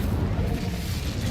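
An Incendio fire spell is cast in a video game, a thick roaring whoosh of flame with a low booming body, sustained and loud throughout with no speech.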